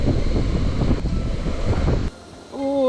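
Gusty wind buffets the microphone with rumbling low-end bursts, then cuts out abruptly before a faint tonal hum rises near the end.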